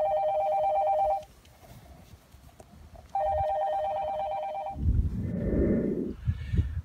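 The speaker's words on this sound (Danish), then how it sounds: "Nu tager jeg telefonen." An old telephone rings in two bursts of an electronic trill with a pause between them, loud and close. A breathy rustle follows, as if the handset is picked up.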